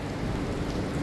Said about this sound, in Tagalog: ngayong taon na itong pinakamalakas na ulan